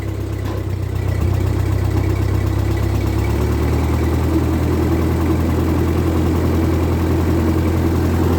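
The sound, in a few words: 1948 Ford 8N tractor engine idling after cold start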